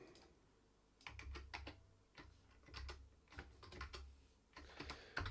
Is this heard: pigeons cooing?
no